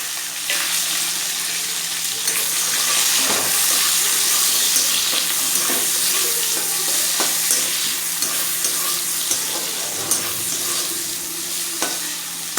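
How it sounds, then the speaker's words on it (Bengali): Chopped onion and garlic fry in oil in a pan for a Bengali potol chingri dish, giving a steady loud sizzle with occasional stirring scrapes and clinks and no talking. "পেঁয়াজটাকে ভালো করে আগে ভেজে নেব"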